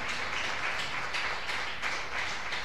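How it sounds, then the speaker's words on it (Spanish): A church congregation applauding during a Sunday service, a dense, continuous wash of many hands clapping at a moderate distance, fairly soft, with no voices on top. "Dale un aplauso al Rey, por favor."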